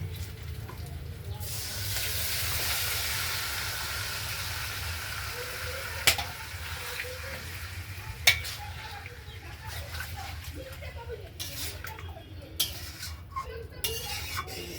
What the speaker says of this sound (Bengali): তো চিকেনটা দিয়ে দিচ্ছি